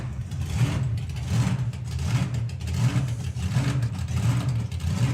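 A nostalgia drag racing car, a tribute car, idling with a loud lumpy hunting rhythm, its deep engine note swelling and dipping in repeated uneven pulses, close by and steady.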